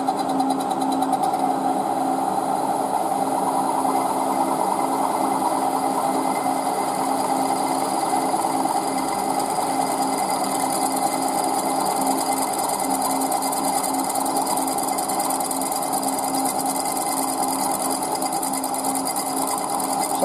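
Steady machining drone of a 7.7 mm drill boring a pilot hole in a BSA oil block, a continuous whirring hum with a constant pitch and level that runs without pause from start to finish, with no talking.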